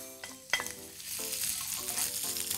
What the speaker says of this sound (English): Onions and garlic go in there.